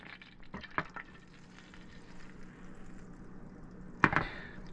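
About three tablespoons of butter with a little olive oil sizzling in a pan on the stove for crawfish pie, a soft steady crackle close by, broken by a few sharp scraping clatters of stirring.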